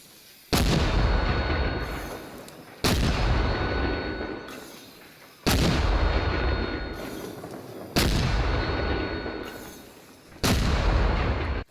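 Mortar rounds fired in Arma Reforger, five loud booming launches spaced a couple of seconds apart, each with a long rumbling decay, with no voices.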